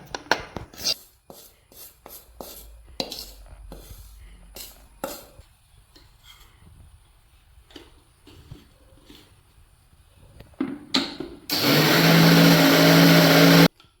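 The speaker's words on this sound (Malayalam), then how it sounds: "നമുക്കിത് ജാറിലേക്ക് ഇട്ടിട്ട് ഒന്ന് അരച്ചെടുക്കാം" Roasted coconut is ground dry in a mixer grinder jar. After scattered clinks and handling knocks, the motor starts with a loud, steady whirring roar that runs for about two seconds and then stops abruptly.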